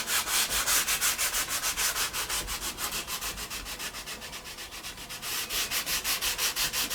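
A metal file scrapes milling marks off a muzzleloading gun barrel in steady, even back-and-forth strokes, close and rhythmic, about six strokes per second with a brief slowdown midway.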